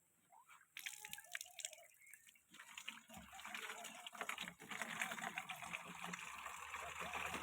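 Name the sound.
water filling a drum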